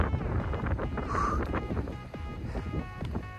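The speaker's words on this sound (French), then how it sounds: "Il y a pas mal de vent ici" Wind buffeting the microphone on a hike in the Sainte-Baume forest, with gusty low rumbles rising and falling over a few seconds and no voices.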